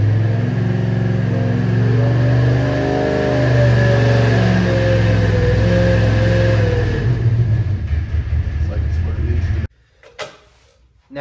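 A 350 engine on a dyno during break-in revs loud and close, its pitch rising and falling in steady sweeps before cutting off abruptly near the end.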